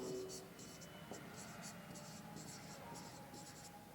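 Pen writing a phone number on a surface, with short repeated scratchy strokes in bursts, close and moderately loud, over a low background hum; no one speaks.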